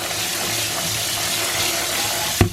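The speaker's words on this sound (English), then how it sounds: "Just strain them. I like to just rinse them off a little bit so they're nice and clean." Running water rinsing soaked, strained chickpeas, a steady close splashing flow with a brief clunk near the end.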